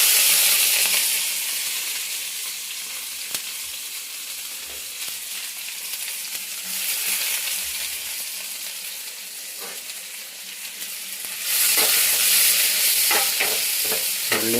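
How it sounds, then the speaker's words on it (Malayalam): Onions and curry leaves frying in hot oil in a kitchen, a steady bright sizzle with stirring scrapes, swelling louder near the end as the pan crackles up close. "അതിനകത്ത് നമ്മൾ ഉള്ളിയും കരിവേപ്പിലയും കൂടി ഇടുകയാണ്"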